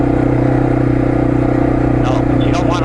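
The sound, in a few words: dirt bike motorcycle riding on trail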